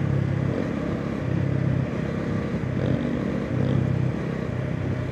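A motorcycle rides along an expressway, its steady engine drone and road rumble continuous and fairly loud throughout, with slight swells in the low hum and no talk.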